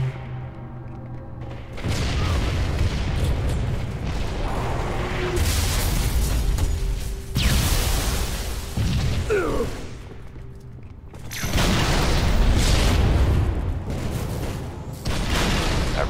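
Grenade blasts and gunfire in Halo 3 multiplayer team slayer, loud booming bursts arriving in several distinct bouts separated by brief lulls, with a voice murmuring underneath.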